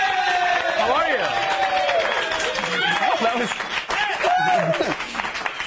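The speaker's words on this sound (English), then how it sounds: "No, keep clapping." A television studio audience applauds during a talk show, a steady wash of clapping that runs beneath loud talking from the host throughout.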